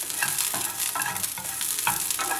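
Green beans roasting and being stirred in a pan, steady close frying sizzle with repeated scraping stirs every half second or so, no voices.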